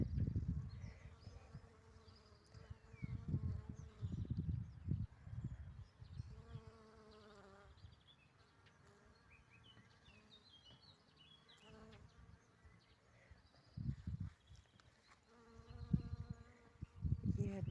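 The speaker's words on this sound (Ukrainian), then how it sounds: "Є бджілочки." Bees buzz faintly in an outdoor setting, with intermittent low thumps and handling noise and a few distant bird chirps.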